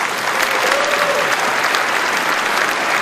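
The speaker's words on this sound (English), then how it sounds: "Give them all a round of applause" Steady applause from a sizable crowd, dense clapping sustained throughout with faint cheering mixed in.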